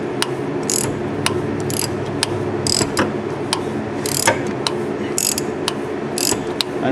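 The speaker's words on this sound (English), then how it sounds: "Tighten the extraction tool up." A ratchet wrench tightens a spark plug extraction tool on a Ford 3-valve 4.6, 5.4 or 6.8 engine, giving sharp, close, irregular clicking bursts over a quiet mechanical background.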